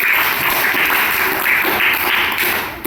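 Schoolchildren in a government school classroom clap for a classmate named Akshay during a Telugu word activity, a brief patter of many small hands, close and fairly loud, stopping abruptly.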